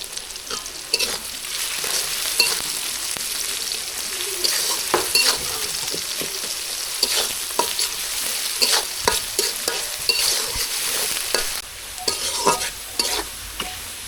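Onions fry with salt in a pan, giving a continuous sizzle broken by frequent scraping and clacking from a stirring utensil, close and steady for the whole stretch with no talk.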